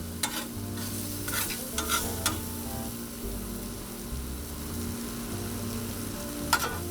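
A spatula scrapes and turns fried onions on a Blackstone 22-inch griddle over a constant sizzle, with several sharp metal scrapes standing out close up and no talk.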